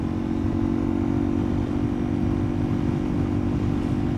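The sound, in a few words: motorcycle accelerating past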